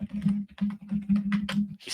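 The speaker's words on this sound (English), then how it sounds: "He's typing. That's that noise." Rapid clicking of a computer keyboard being typed on, a quick run of light taps with a steady low hum underneath, close and fairly quiet.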